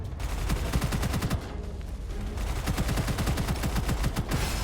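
Rapid automatic gunfire from a weapon in the first-person shooter Gunfire Reborn, steady fast bursts of shots running loud and continuous nearly throughout, with a brief lull in the middle.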